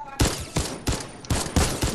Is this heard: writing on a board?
no